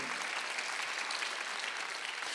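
A church congregation claps during a Sunday worship service, a steady dense wash of applause filling the whole stretch at moderate level with no break.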